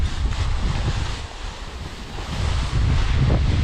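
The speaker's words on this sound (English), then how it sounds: "that wind shifted too" Strong gusting wind while kiting with a 27-meter BDG Wasp kite roars continuously across the microphone, swelling and easing in gusts with a brief lull midway, loud and close, no voices.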